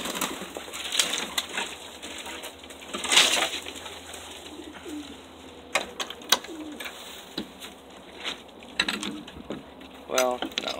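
Roller pigeons coo softly inside their kit box, a few low calls scattered among rustling and occasional wing flutters, fairly close with quiet room noise between.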